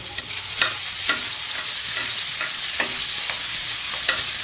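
Ginger, green chili and garlic paste sizzling in hot tempering oil, a dense constant hiss with a spatula scraping the pan every half second or so, close and loud, no voices.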